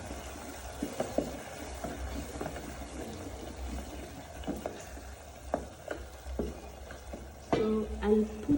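A spoon stirs beef pilau frying in a pot with tomato paste, tomatoes and pilau masala, giving steady sizzling with irregular scraping and clinking knocks, a few louder clatters near the end.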